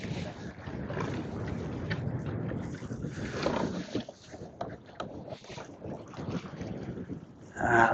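Wind gusts buffet the microphone beside the water during a bream fishing trip at St Helens, a steady roaring rush that swells and fades, with a faint voice at times.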